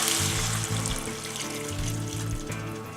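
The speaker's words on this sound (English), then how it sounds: "to that we're going to add in 2 cups of beef stock" Beef stock being poured from a container into a pot of beef ragu on low heat, a steady splashing liquid stream with faint rhythmic clinks, close and alone.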